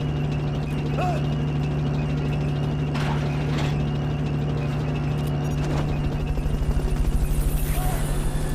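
A helicopter in Metal Gear Solid: Peace Walker hums as a steady, loud rotor drone through the whole stretch, with a few faint game effects on top and a faster chopping pulse building near the end.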